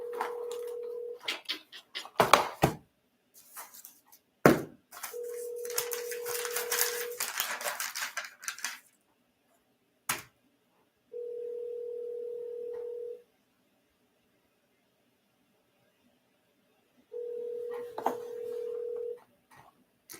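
A telephone ringback tone sounds while a call is placed, steady buzzy pulses about two seconds long repeating after long silent gaps, with some handling clatter and rustle early on.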